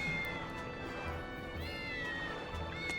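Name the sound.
cat meowing in the video game Tales of Berseria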